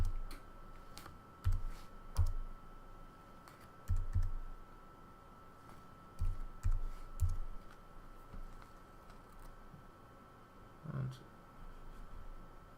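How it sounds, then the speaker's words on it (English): Keystrokes on a computer keyboard entering a USTA number, a few scattered clusters of soft close taps separated by quiet pauses. "So I take Cece's card and enter her USTA number again."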